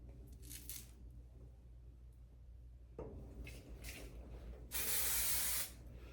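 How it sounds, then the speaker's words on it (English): A can of hair spray puffs in short hisses, two faint bursts early on, then a long, louder spray near the end, in a quiet room. "just spray it with a little spray"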